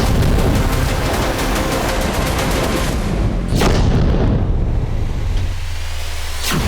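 Explosions from Russian strikes in western Ukraine sound as a dense, loud, rumbling barrage, broken by a few sharp blasts, before a low continuous rumble carries on.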